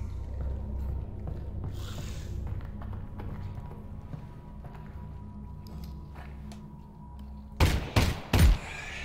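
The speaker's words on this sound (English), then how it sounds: "Oh, we're taking bullets, man." Gunfire in the VR game Half-Life: Alyx, a quiet ambient stretch broken near the end by three loud close shots in quick succession.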